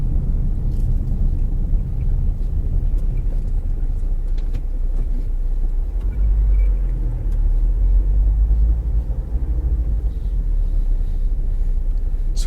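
A car drives along a road toward Whitfield near a roundabout, steady close engine and tyre rumble with some wind buffeting throughout and no talking.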